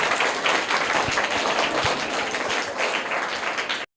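Children and adults applaud a quiz prize winner who has been given a notebook. The clapping is loud, dense and sustained, then stops abruptly at the very end.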